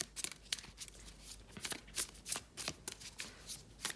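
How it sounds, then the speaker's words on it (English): A deck of tarot cards is shuffled by hand close up, a series of crisp riffling bursts in an irregular rhythm, quiet and alone. "Let's give these cards one more shuffle"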